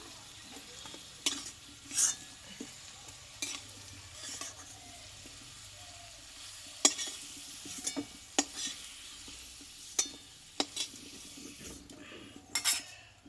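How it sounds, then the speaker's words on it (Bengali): Potatoes fry in hot oil in a pan while being stirred: a steady soft sizzle with intermittent scraping and clinking strokes from the utensil, close up, with no talking. "আলুটা কিন্তু কষতে গিয়ে অনেকটা পরিমাণে কিন্তু নরম হয়ে গেছে এবার তেল থেকে আলুটাকে আমি তুলে নেব"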